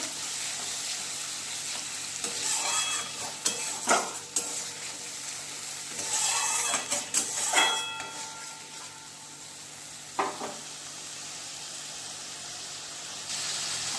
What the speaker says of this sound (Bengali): এই যে জিরে শুকনো লঙ্কাটা দিয়ে দেবো, দিয়ে এগুলো ভালো করে আগে রান্না করে নেব।